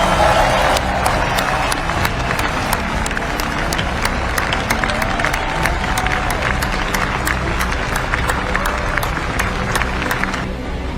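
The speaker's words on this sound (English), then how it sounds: "So please join me in a round of applause for our team" A large crowd at the B-21 Raider bomber unveiling ceremony applauds steadily and loudly, dense clapping mixed with some cheering filling the whole stretch without a break.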